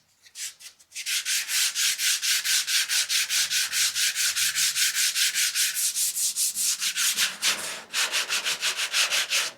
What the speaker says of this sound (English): I can use the sanding block.